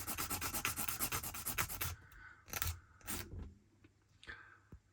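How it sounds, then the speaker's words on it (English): Quick rhythmic rasping strokes of a sanding stick on a 1/72 scale Airspeed Oxford model kit part, close by, then slower, scattered rubs with short pauses between them. "then we'll just have a go with the sanding stick"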